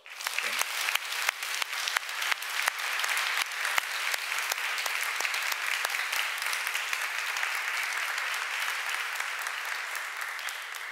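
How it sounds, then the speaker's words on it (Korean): Congregation at a Sunday worship service in a Korean church in Paris claps for its elders, starting with a few sharp claps and building into steady, even applause that carries on at length. "우리 어르신들 향하여 전심 우리 박수하십시다"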